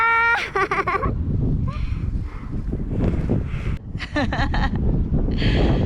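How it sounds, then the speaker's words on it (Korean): Gusty wind roars and buffets the microphone outdoors on a mountain during a solo backpacking trip, loud and continuous, with a voice exclaiming and laughing briefly over it. "오늘 바람 불면 안 되는데 바람 분다"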